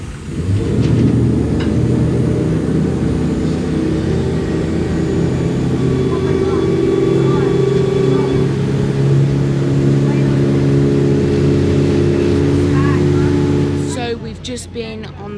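A boat engine drones steadily and loudly for most of the stretch, a low rumbling hum that drops away near the end, on a ferry boat from Disney Springs to Saratoga Springs at Walt Disney World.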